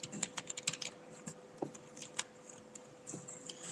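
Typing on a computer keyboard during a PageMaker 7.0 lesson, quick irregular clusters of light close key clicks with short pauses, no talking.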